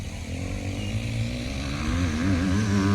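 Honda CRF 250R dirt bike engine revving hard and climbing in pitch as it accelerates, a loud, close two-stroke-like buzz with no talk.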